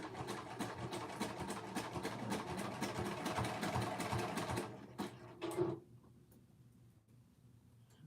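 A sewing machine stitches knit fabric with a 3/8 seam in a fast, steady mechanical whir that stops near the end with a couple of short bursts, close and alone.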